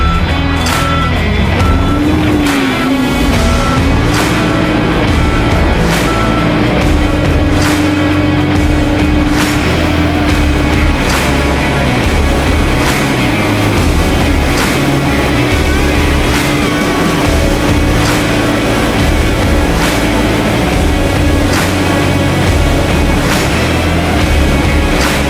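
Delivery truck engine straining in second reverse gear while trying to climb, a loud steady drone with wavering pitch and repeated sharp clicks, continuous throughout with no talking.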